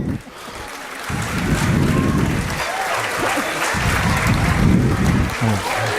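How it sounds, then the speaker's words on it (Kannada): An audience at a comedy stage programme applauds loudly in two sustained bursts of dense clapping separated by a short lull. "ಎಲ್ಲರೂ ಮತ್ತೊಮ್ಮೆ ಜೋರಾಗಿ ಚಪ್ಪಾಳೆ ತಟ್ಟಿ."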